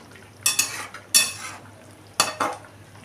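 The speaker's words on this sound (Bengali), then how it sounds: "এবারে আমি একটু ভালো করে নাড়িয়ে নিচ্ছি।" Spiny gourd (kakrol) curry stirred in a pan with ghee, three quick scraping strokes of a spoon against the pan over a faint sizzle, with no talk.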